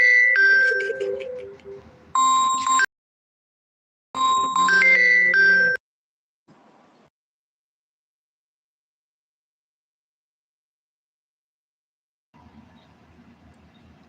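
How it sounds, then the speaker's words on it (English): A mobile phone ringtone plays in two loud bursts of bright electronic melodic tones, separated by a short pause, followed by quiet murmuring and silence. "my phone is ringing"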